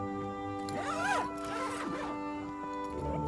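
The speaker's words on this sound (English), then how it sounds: "Let's go ahead and unzip this." A tent zipper being pulled open on a foggy morning, two or three close, rasping zipping strokes in quick succession against soft background music.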